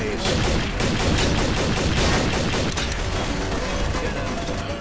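Sustained rapid gunfire rattles loudly throughout from Garry's Mod Trouble in Terrorist Town, a dense, unbroken fusillade of shots.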